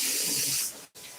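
Water runs from a tap in a steady bright hiss while something is rinsed during homemade body butter making, briefly cutting off before resuming at a similar level.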